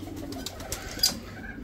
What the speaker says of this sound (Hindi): अब हमारी बर्ड एवियरी में जो है ना सिर्फ कबूतर और बटेर रह गए हैं